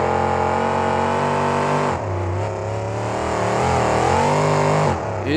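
Loud, whining RC monster truck engines revving hard while racing at a 2009 event in El Paso, Texas, rising and falling in pitch with no talk over them.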